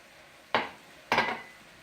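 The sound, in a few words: rice being added to a pan with oil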